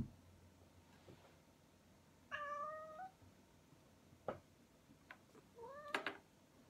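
A cat meows several times, faint and indoors, with short rising and falling cries spaced across a few seconds and a quiet room in between.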